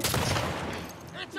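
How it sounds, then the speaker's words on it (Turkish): Gunfire in The Last of Us Part II, heard as a sustained, loud barrage of rapid shots with a rough, crackling texture. Someone talks over it, and a sharper crack comes near the end. "Sen ne yapıyorsun abi, adam sıkıyor."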